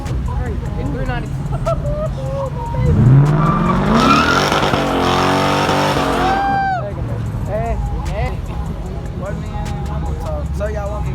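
A car revs and races hard at a crowded street car meet, its tires squealing for a few seconds as it accelerates past close by, loud above the crowd noise, with people talking and shouting all around.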